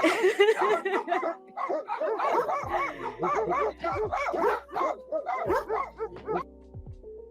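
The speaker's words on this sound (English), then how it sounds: "The dogs are still barking" Several dogs bark and yip in quick, uneven bursts close by, with a whimper among them and a faint low hum underneath.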